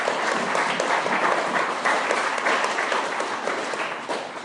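Congregation applauding in a church, a dense, steady burst of many hands clapping together, loud and sustained for several seconds with no speech over it.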